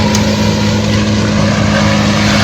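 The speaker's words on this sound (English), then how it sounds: "I'm back, unfortunately, where the trees are being ground up" Loud, continuous roar of a machine grinding up trees, a dense steady engine drone with no breaks, heard from fairly close.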